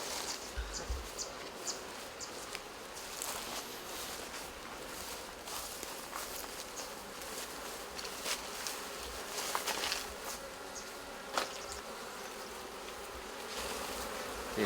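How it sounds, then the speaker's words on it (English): Bees hum in a soft, continuous buzz that stays faint and distant, broken by occasional light ticks and rustles. "The bees are really excited today."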